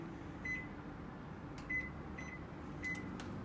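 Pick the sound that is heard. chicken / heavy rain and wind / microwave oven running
microwave oven running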